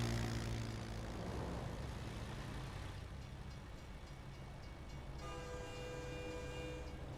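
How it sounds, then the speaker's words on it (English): A train in American Truck Simulator rumbles past at a distance, a low steady roar with a horn-like tonal blare rising near the end, no talking. "I can hear the train, but I can't see the train."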